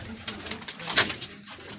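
Pigeons cooing softly near at hand, a few short throaty coos in quick succession with faint wing or movement sounds around them.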